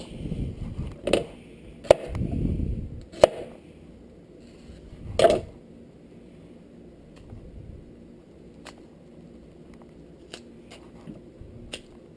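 A knife chops saba banana into pieces on a cutting board, several sharp separate thuds spaced irregularly, close and moderately loud, followed by softer scattered taps.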